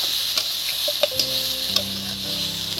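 Turmeric and spices hiss and sizzle steadily in hot oil in a frying pan while a utensil stirs, scraping and tapping now and then; loud and close, with no voices.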